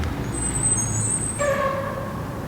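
A school bus in rural western Ohio gives a brief hiss of air brakes over low traffic rumble, the release sharp at first and then a fading tonal whine.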